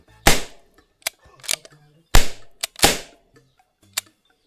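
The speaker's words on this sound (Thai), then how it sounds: "อ่ะอัดครบแล้ว 3 นัดนะครับ ก็ยิง" A Kokusai Colt Python 357 cap gun fires three loud, sharp cracking shots at close range, each followed by smaller mechanical clicks of the revolver's action in between, with no talk over them.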